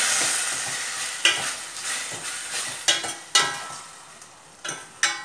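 Rajma (kidney beans) being stirred in a pan, sounding as repeated scraping strokes with a soft sizzle underneath, close and fairly loud, with a few sharp knocks of the spoon.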